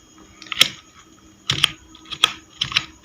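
Keystrokes on a computer keyboard as a command is typed into a Windows setup command prompt, arriving as short separate clusters of crisp clicks, close and fairly loud, with a pause near the middle and no talking.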